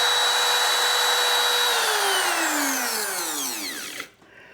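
A power tool cuts into wood for a workbench leaf, first with a loud steady whine, then a falling pitch as the motor winds down and stops abruptly, followed by near silence.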